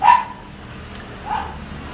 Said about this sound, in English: I got dogs barking, birds chirping